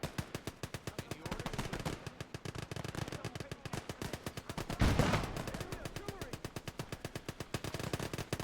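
Sustained rapid machine gun fire in the World War II game Gates of Hell on the Eastern Front, a steady rhythmic stream of loud bursts with a heavier blast near the middle and faint background battle noise.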